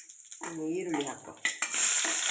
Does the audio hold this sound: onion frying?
yes